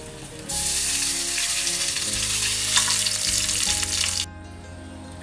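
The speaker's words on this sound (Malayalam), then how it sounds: "വറ്റമുളകും കൂടി ആയി കഴിയുമ്പോൾ നമുക്ക് കറിവേപ്പില ഇടാം." Curry leaves hit hot coconut oil with red chillies and mustard seeds for a kalan tempering, a sudden loud burst of sizzling that holds for several seconds, then drops back to a quieter hiss.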